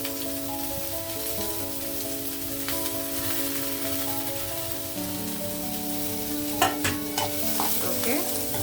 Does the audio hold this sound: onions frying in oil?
yes